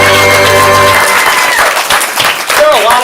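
An audience at a comedy show claps for the door staff, with lively crowd applause and cheering that swells after a held musical or vocal tone, while voices call out over it.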